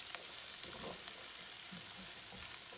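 Half an onion frying in a hot pan, a steady close sizzle with faint crackles and no voices.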